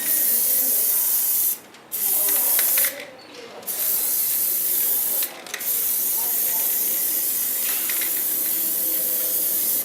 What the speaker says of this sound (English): you see the guy here standing here with his spray can on the thing